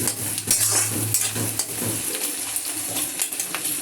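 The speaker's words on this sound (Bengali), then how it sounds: "পেঁয়াজ ভাজা হচ্ছে" Onions fry and sizzle in a pan while a utensil stirs and scrapes against it, with irregular clinks and bursts of hissing up close.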